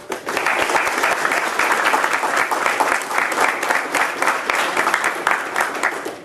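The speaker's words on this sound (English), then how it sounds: "We can just give a round of applause to the family." Loud, close audience applause at an Air Force senior master sergeant's retirement ceremony, directed at the family; dense clapping rises quickly and holds steady before tapering off.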